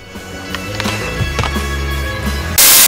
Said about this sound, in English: I also like just the raw sound of skateboarding